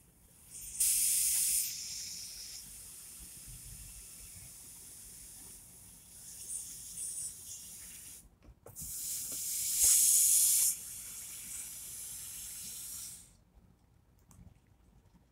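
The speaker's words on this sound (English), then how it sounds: "Now let the air escape the balloon and notice it." Air rushes out of a rubber balloon in two long, loud hissing bursts separated by quieter stretches, heard close up with no voices.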